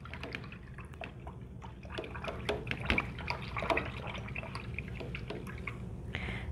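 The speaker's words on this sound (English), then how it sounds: "All right, rinse that out." Paintbrush rinsed in a water cup while acrylic painting, close small splashes, drips and swishing clinks going on continuously, fairly quiet, no talk.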